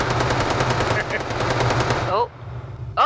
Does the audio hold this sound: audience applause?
no